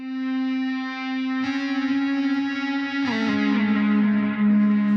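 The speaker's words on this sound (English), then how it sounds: "The song gets more and more abusive effects until the music is barely distinguishable from the" A sustained, heavily distorted musical tone from a song grows harsher as layered effects pile on, the pitch shifting and the texture smearing toward buzzing noise.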